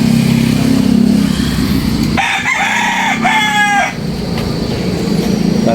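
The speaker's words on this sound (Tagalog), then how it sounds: "Dahil manok ni Babang Bitoy dito" A rooster crows once at mid-distance, a harmonic call of about two seconds, over a steady low hum of background noise and traffic.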